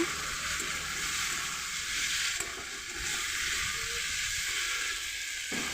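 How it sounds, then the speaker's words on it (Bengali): Small fish and green tomato pieces fry lightly in a pan, giving a steady, soft sizzling hiss with faint crackles, close and even throughout, no voice over it. "এগুলোকে এবার একটু ভেজে নেব। হালকা করে ভাজবো।"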